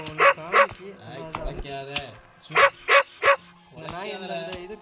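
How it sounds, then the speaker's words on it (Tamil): A dog barks in a horror video game, with three pairs of sharp, close yaps spaced through the stretch while someone talks between and over them. "நாய் வேற அடிக்கடி குறைஞ்சிக்கிட்டே இருக்கு."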